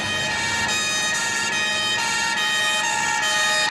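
A fire engine siren blares loud and close as firefighters arrive at a building fire, a steady multi-tone wail with slight rhythmic pulsing and no talk over it.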